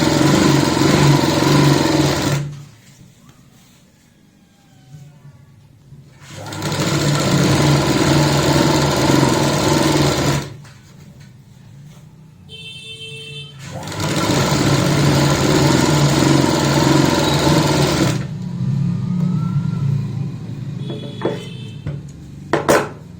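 A sewing machine stitches the hem of a palazzo pant in three long, loud bursts of steady motor whir, separated by short quiet pauses with faint handling noises.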